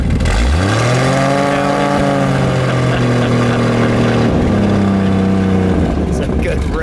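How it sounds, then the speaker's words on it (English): A 1963 Ford Falcon Cayuse convertible concept car revs hard nearby, its engine note rising, holding, dipping and climbing again in a loud sustained run. Voices talk over the engine. "Give it a rev. Step on it."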